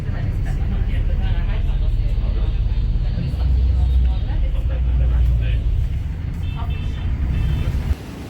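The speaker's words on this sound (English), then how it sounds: "this is the upper deck of a air conditioned bus" Steady low engine rumble and road noise on the upper deck of an air-conditioned hop-on hop-off tour bus in Vietnam, loud and continuous with a brief drop near the end and a voice speaking.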